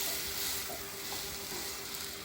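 Potatoes and rice frying in hot oil, a steady close-up sizzle and hiss with faint crackles, no voices over it.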